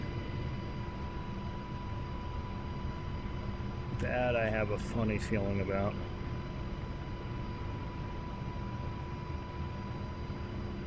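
A helicopter in the DCS combat flight game drones along low over dark terrain, its engine a constant hum with a faint whine, while someone talks briefly in the middle.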